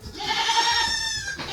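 A nanny goat standing at the milk stand lets out one clear, close, wavering bleat lasting just over a second, with no other voices.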